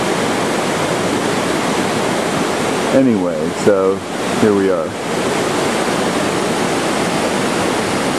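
Steady, loud roar of a river rushing through a gorge beside a hiking trail in the Adirondacks, a constant broadband wash with someone speaking briefly midway over it.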